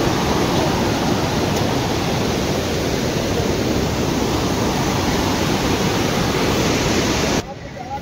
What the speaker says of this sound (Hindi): ये देखो भाई पानी का इतना बहाव है